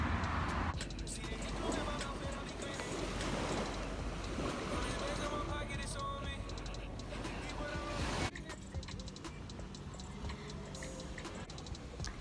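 Surf washes onto a Florida beach as a steady, broad hiss of breaking waves, fairly faint and continuous, with a brief drop in level toward the end.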